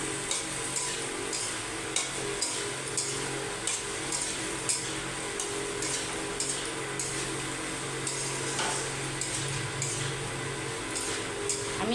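Pointed gourd and potatoes being stir-fried in spice paste, with a steady close sizzle broken by regular scraping strokes of a spatula against the pan, no voices.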